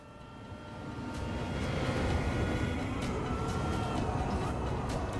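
Engine of a Mazda-powered race car in Gran Turismo 7 drones loudly and steadily, a continuous buzzing roar that swells slightly and holds through the whole stretch with a faint siren-like whine on top.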